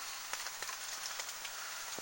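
Rain pattering on a tarp at a hammock campsite in wet weather, with scattered soft drops and taps over a steady hiss and no voices.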